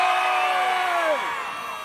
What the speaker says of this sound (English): I want to hear the biggest, loudest cheer that you can muster.